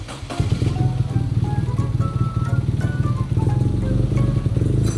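A BMW motorcycle engine runs rough after an injector cleaning, holding a loud, uneven idle with a low throbbing pulse and a faint stutter throughout.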